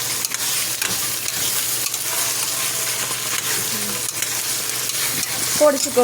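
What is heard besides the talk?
stirring vegetable biryani mixture in pan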